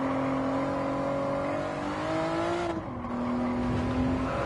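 A Honda NSX engine drones under load through a lap of Interlagos in Gran Turismo 7, one steady note rising in pitch, dipping briefly at a shift near the end, then holding again.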